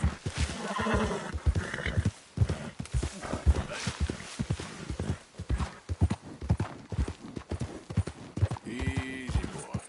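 Rhythmic clip-clop of horse hooves trotting up close in Red Dead Redemption 2, with a horse whinnying near the end; no talking.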